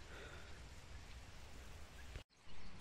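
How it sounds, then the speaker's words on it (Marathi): Rain falling on floodwater covering a field after a river flood: a soft, even hiss of drops on water, faint and steady, with a brief break near the end. "बघा पाऊस आलेला आहे. पाण्यात पडतात ठेमा दिसायलेत."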